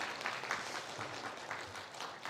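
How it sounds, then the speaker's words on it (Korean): A church congregation at a Sunday morning service in Jeonju claps to welcome a visiting youth group from a Gwangju church, producing a dense, steady patter of many hands that fills the room at a moderate, slightly distant level. "잠깐 일어나서 한번 우리 박수로 환영하시고"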